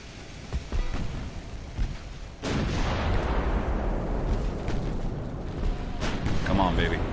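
An armor-piercing shell fires from a battleship in the naval game Ultimate Admiral: Dreadnoughts, a heavy booming blast followed by a sustained roaring rumble, with smaller thuds before it and a voice talking faintly over the din.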